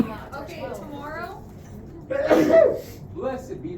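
A single sharp sneeze bursts out in a room, loud and close, set among people talking casually before and after it.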